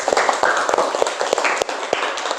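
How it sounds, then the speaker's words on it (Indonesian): A classroom applauds a student after a group presentation, with distinct, fairly close hand claps in an uneven rhythm from a small group, loud and without talk over them. "tepuk tangan untuk Mas Fahri."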